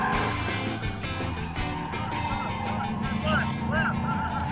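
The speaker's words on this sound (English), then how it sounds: "You have to use more RPMs to get it to stay in that tight circle." A Mustang engine drones and revs at high RPM while the car holds a tight circle on very sticky tires, a continuous mechanical roar with faint tire noise, and people talk over it.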